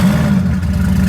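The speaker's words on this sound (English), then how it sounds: "The car fired up and runs" Rebuilt, previously wrecked Mercedes-AMG GT engine running, a loud, close, rumbling mid-pitch drone with a steady throbbing pulse and no voices.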